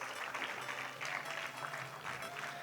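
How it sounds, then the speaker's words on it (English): Steady applause from a large audience at a school graduation ceremony, moderately distant and fairly even throughout, with no pauses or voices standing out. "a very big round of applause to ANPS"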